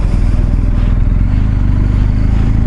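A BMW R1250 GS HP motorcycle riding slowly through town, a loud, steady low engine rumble with a pulsing beat heard close up, with no voices.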